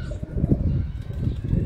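An Indian Lakha pigeon coos softly in low, throaty murmurs close by, with faint rustling and some background noise around it.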